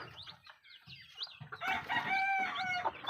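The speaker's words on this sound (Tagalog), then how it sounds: "sa likod natin may narinig tayo nag-aaway at ito pala yung nagpaampun sa atin na manok" Chickens squabbling on a poultry farm among young chicks, a burst of agitated clucking and squawks that builds into loud, overlapping harsh calls close by.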